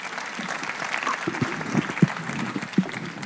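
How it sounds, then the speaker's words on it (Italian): Audience applause at an evening event, a moderate steady patter of many hands clapping with a few sharper claps standing out nearby. "Applauso, grazie"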